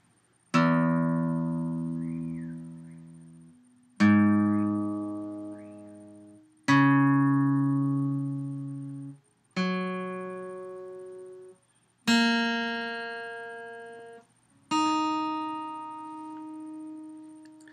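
An unaccompanied guitar tuned half a step down is picked one string at a time: six evenly spaced notes, each struck cleanly and left to ring and fade before the next.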